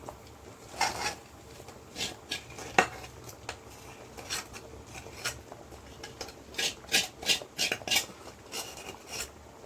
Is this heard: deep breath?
no